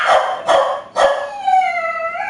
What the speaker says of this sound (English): My dog. Let me let him out.